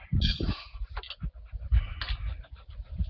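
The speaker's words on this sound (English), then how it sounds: "Hello, little puppy dog." A puppy pants in quick, close breathy bursts with a few faint whimpers, loud and near, with no speech.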